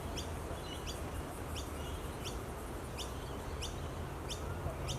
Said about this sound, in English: I find butcher birds very hard to spot, but you hear them all the time